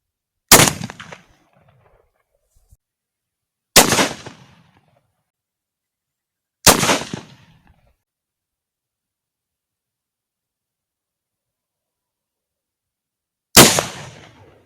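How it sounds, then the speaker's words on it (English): Four sharp varmint rifle shots ring out during rabbit shooting in the Australian countryside, each a loud crack with a short decaying echo, spaced a few seconds apart with a longer pause before the last, and no talking. "I've just emptied about 15 shots."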